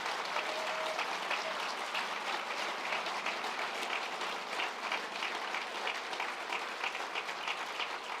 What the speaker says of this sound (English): could I ask you maybe to give a round of applause to all the staff at the University of Birmingham